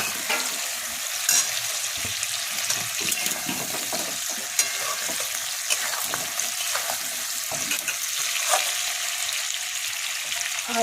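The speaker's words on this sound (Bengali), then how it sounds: "এরপর আমি এর মধ্যে চিকেনের টুকরোগুলো দিয়ে দেব। দিয়ে একটু নাড়াচাড়া করতে হবে।" Chicken pieces fry in a pan and are turned over, a continuous bright crackling sizzle dotted with spoon scrapes and small pops, moderately quiet and close, without talking.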